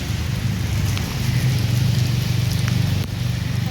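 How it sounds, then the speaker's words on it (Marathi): Heavy monsoon rain pours steadily and loudly on surfaces during an outdoor shoot, a dense continuous roar with a few sharp drip ticks and low rumble beneath. "पावसाळ्यामध्ये शूट चाललंय पावसामध्ये शूट चालू आहे. फुल पाऊस चालू आहे."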